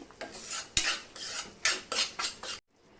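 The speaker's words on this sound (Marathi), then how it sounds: "रवा आपला छान सात ते आठ मिनटं मी भाजून घेतलं" Semolina dry-roasting in a pan while a spoon scrapes through it in repeated rasping strokes, about half a dozen close scrapes with brief pauses, ending abruptly in near silence.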